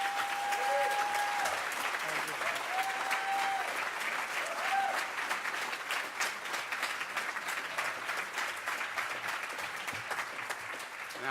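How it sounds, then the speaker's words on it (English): Audience at a livestreamed talk by Fred Gray gives a round of applause, a full, steady clapping crowd throughout, with a few faint voices and brief tones early on beneath it. "I'd like for you all to give him another round of applause for his great effort."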